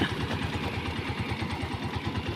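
A hot TMX motorcycle engine, run long on a long-distance ride, idles close by with a steady, rattling beat, loud and continuous throughout.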